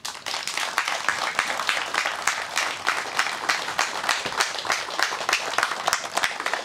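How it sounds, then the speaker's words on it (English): Audience applause at the National Motor Museum's 50th anniversary celebrations, sustained crowd clapping with sharp individual claps standing out, fairly close and continuous throughout. "please extend that applause for Lord Montague of Beauly"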